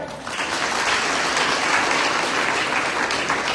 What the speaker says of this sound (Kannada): ಅದಕ್ಕೊಂದು ದೊಡ್ಡ ಚಪ್ಪಾಳೆ